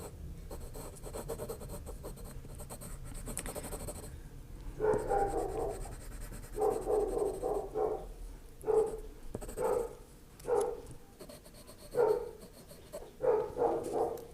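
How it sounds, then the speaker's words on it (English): A little dog across the road barks repeatedly at a moderate distance, in short irregular bursts over a steady background hiss, with no one speaking. "it's a full bark situation now"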